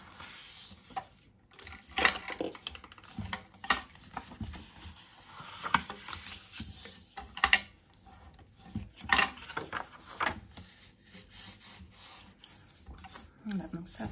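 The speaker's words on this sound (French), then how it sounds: "Et on vient marquer nos plis." Paper craft box for a Happy Meal-style project having fold lines scored: close, soft scraping and rubbing strokes in irregular bursts, fairly quiet, with no speech over them.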